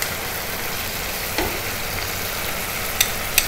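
Red bean sundal is stirred in a pan, giving a soft continuous sizzling hiss with a faint clunk partway through and a couple of light metallic clicks near the end.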